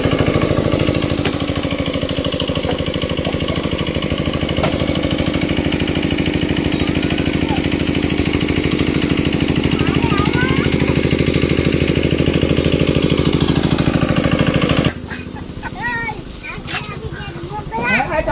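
A shallow irrigation pump engine running nearby with a loud, steady rumbling drone, which cuts down abruptly toward the end, leaving quieter background sounds and a voice.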